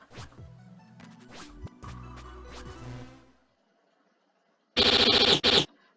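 Harsh shot sound effects from the Touhou Book of Star Mythology shooting game: a jumbled burst of tonal game sounds, then a pause, then two loud, buzzing, grating blasts close together.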